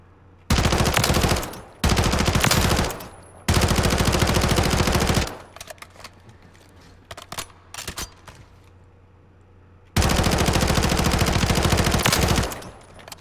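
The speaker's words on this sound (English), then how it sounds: "It is an SMG, so it's not made for for range" Submachine gun firing on a video game firing range: four long, loud sustained bursts of rapid automatic fire, with scattered shorter shots and clatter between the second and third bursts.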